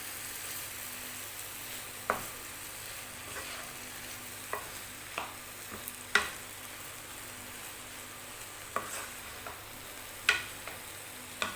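Chana daal and karela with spices fry with a soft, constant sizzle while a spoon scrapes and knocks the pan at irregular intervals, several sharp clicks standing out, with no talking.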